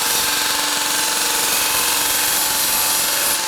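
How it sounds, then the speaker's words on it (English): A hardened steel falchion blade held against a power grinder produces a continuous loud, even whine with a steady tonal hum, constant from start to finish with no pauses. "I'm gonna grind this so that we can see the temper colors"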